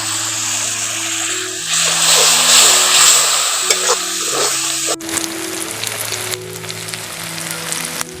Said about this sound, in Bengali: অল্প একটু জল দিয়ে দিচ্ছি জলটা দিয়ে একটু ভালো করে কষে নেবো